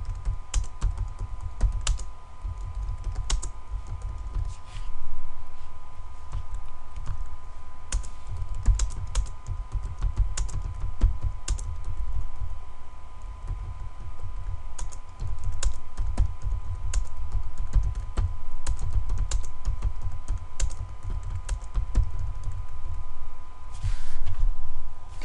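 Steady, close clicking of computer keys while a job name is entered in quoting software, with irregular bursts of keystrokes over a low constant hum and no speech.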